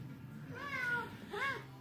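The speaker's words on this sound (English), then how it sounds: "There's the cat." A cat gives two short, drawn-out meows close by, one after another, over a low steady background hum.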